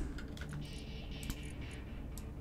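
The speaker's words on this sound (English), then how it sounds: "Keyboard's probably really loud." Rapid keystrokes on a computer keyboard during a Space Engineers survival game session, a steady close clatter of clicks running continuously over a low background hum.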